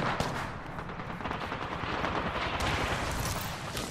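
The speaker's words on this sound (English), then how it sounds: "I'm spotted, taking fire." Gunfire in the battle royale game Apex Legends: a dense, continuous rattle of rapid shots and crackling impacts, mixed together at fairly low level with no clear pauses or voices.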